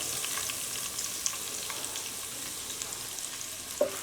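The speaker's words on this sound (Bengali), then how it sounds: "খুব ভালো করে পেঁয়াজটা এবং মশলাটা আমি ভেজে নেব" Chopped onion with mace frying in hot oil for pulao, a steady broadband sizzle running throughout with a couple of small pops and clicks, close and even, no talking.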